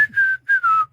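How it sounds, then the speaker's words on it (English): A person whistles a short, clear tune of sustained, slightly falling notes in a few phrases, close and loud with no talk around it. "Quentin started to whistle as he put on his socks."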